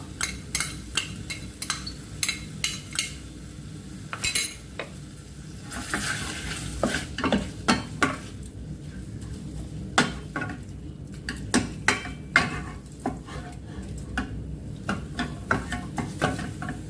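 Chili and garlic stirred into a sizzling home-style Thai beef om curry: a steady frying hiss under repeated sharp clinks and scrapes of a utensil against the pot, close and fairly loud, with no talking.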